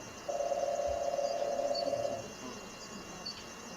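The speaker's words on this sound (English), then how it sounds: "So this is the marine toad sound." A marine toad call is played back for a bat: a single steady, even trill lasting about two seconds, then a quiet background.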